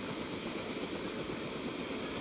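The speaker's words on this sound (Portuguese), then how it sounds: "Olha lá agora toda a equipe da Nativa fazendo a viagem panorâmica de helicóptero." Helicopter engine and rotor during a panoramic sightseeing flight over Jaguariúna, a steady, dense roar that stays loud and unbroken throughout, with no voices.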